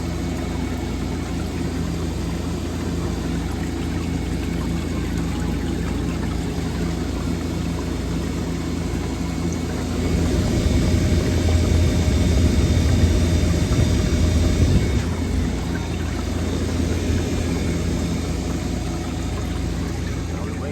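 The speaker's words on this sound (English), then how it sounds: "we do have a nice steady flow of water over the edge" A Scotsman ice machine runs a steady sheet of water over its evaporator, a continuous broadband wash over a low mechanical hum that swells louder for several seconds midway before settling back.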